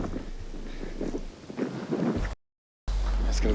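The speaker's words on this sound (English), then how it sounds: "Oh, here comes the rain." Rain sweeping in over an outdoor wilderness survival camp, a steady wash of falling drops with low rumbles of thunder, briefly cutting out before resuming loud and close.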